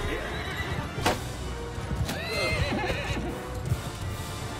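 Cavalry horses charge into battle in the video game Mount and Blade Bannerlord, with loud whinnies and neighs over a rumble of hooves, a sharp crash near the start, and a dense, continuous battle din underneath.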